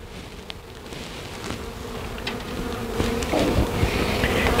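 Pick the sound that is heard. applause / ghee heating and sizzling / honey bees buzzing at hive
honey bees buzzing at hive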